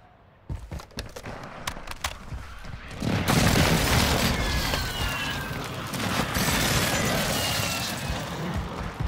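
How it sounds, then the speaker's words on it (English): Airstrike explosions in a first-person shooter video game: a few sharp bangs, then a heavy, sustained rumble of blasts and debris that stays loud through the rest of the stretch. "Hostile airstrike incoming."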